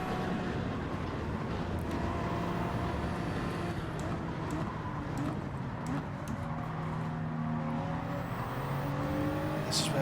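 Race cars in Gran Turismo 7 running in a Toyota Supra's slipstream, with a loud continuous engine drone and rising, falling pitch sweeps as gears shift and revs climb.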